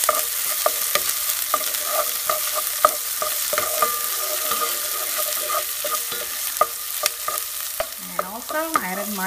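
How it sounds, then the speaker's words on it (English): Onions, garlic, chili powder, cumin and curry leaves sauté in a pan with a steady sizzle, punctuated by repeated sharp scrapes and clicks of a spoon stirring against the pan. "Saute your onions under medium heat."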